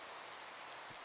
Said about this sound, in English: I swear it rains all day long